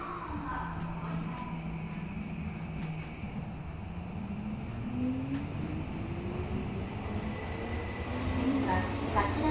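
A Tokyo Metro 17000 series subway train running on the Yurakucho Line, a continuous loud rumble with rising and falling motor whine as it accelerates, heard from inside the car.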